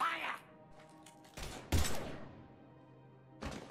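Gunfire from a firefight in the video game Mass Effect 3 Legendary Edition: a loud burst of shots around the middle, another near the end, with quieter game ambience between.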